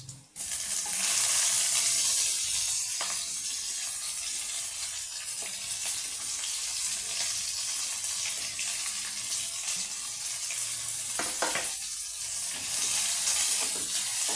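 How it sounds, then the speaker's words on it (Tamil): Onions sauté in a hot pan with a steady, loud, broadband sizzle that holds evenly throughout, broken by a few faint scrapes of a spoon against the pan. "வெங்காயம் நல்லா வதங்கிருக்கும்."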